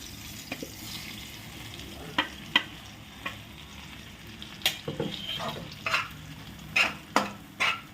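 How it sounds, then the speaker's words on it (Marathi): Crushed peanuts roast in oil while being stirred, a soft, fairly quiet sizzle in the background punctuated by sharp scraping and tapping strokes of a spatula that grow more frequent toward the end. "आता कूट आपल्याला चांगला परतून घ्यायचा आहे कारण आपण त्याला भाजलेलं नाही आहे"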